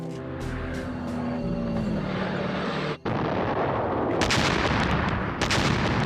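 World War II battle sounds of the Japanese assault: a droning aircraft engine gives way to a dense barrage of gunfire and artillery blasts, with rapid sharp reports piling up toward the end and no voices.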